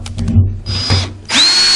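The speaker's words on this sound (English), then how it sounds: "we can continue to drill the rest of this." A power drill bores into a metal fuel tank during a fuel system install, whirring loud and close in short bursts with a brief pause before a longer, steady spin.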